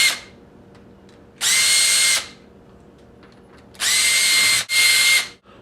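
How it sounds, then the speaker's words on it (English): A power drill backs out the screws of an old door lock catch in three short, loud whirring bursts, the last one broken by a brief stop, with quiet gaps between them. "So we're going to take out the catch screws."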